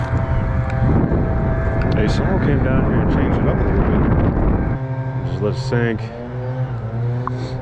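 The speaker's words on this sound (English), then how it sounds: "Sorry about the noise, people are blowing leaves." Leaf blowers roar nearby at a lakeside fishing spot after heavy rain, a loud steady broadband engine drone that fills the first few seconds and then drops back as someone talks over it.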